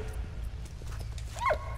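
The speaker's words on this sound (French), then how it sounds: "Va me chercher ça, mon petit chien." A dog in a World War I video game gives a short bark or yelp near the end, over low rumbling game ambience with faint background noises.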